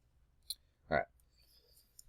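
A computer mouse clicks once sharply up close, followed by a faint tick, against quiet room background.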